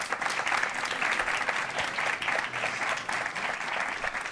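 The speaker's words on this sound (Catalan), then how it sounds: "un aplaudiment per ells" A studio audience at a children's TV word-game show claps for a three-member school team, a continuous, moderately loud wash of applause without speech.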